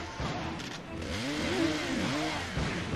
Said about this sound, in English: Like seeing Ash expand his arsenal beyond just, you know, chainsaw and shotgun